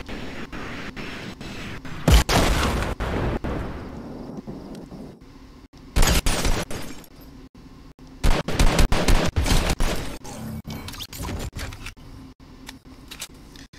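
Rapid bursts of video game gunfire, loud automatic volleys around two, six and eight to eleven seconds, with quieter single shots and clicks in between; no talking.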